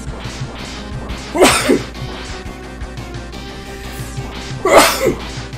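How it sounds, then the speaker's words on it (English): Two sharp, forceful sneezes a few seconds apart, close to the microphone, over faint background game sounds. "I'm gonna sneeze."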